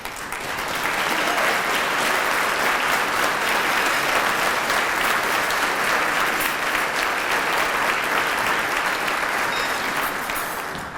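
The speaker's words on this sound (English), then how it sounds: "let's give them a round of applause if we could" A crowd at a State of the City address claps for city employees, a sustained, full round of applause that swells in quickly, holds steady and loud, then tapers slightly at the end.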